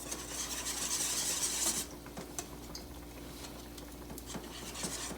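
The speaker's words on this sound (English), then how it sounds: "we'll just start to whisk it here" A whisk scrapes and stirs demi-glace as it melts in a pan for lamb stock and braise, giving steady close metallic rasping and swirling that is loudest at first and then settles into softer, continuous stirring.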